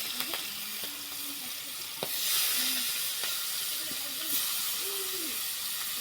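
Fish dropped into hot oil and frying, a steady hiss and crackle that swells as the pieces go in, with a few sharp clicks and low tones over the sizzle.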